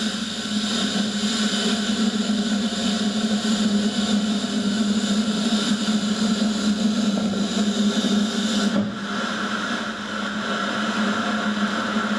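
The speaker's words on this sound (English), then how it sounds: "It forces compressed air out as the jet starts to take off." A jet aircraft fitted with a gravel kit takes off from a gravel runway, giving a steady, loud broadband roar that holds for several seconds with a brief dip near the end.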